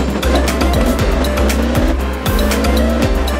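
A race in the mobile game Car Parking Multiplayer: a loud engine revs through repeated shift cycles while tires squeal and skid almost continuously, close and intense, with no voices.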